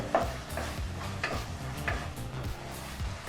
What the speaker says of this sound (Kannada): ಟೊಮೊಟೊನೂ ಸಹ ಸ್ವಲ್ಪ ಸಾಫ್ಟ್ ಆಗೋವರೆಗೂ ನಾವು ಫ್ರೈ ಮಾಡ್ಕೋಬೇಕಾಗತ್ತೆ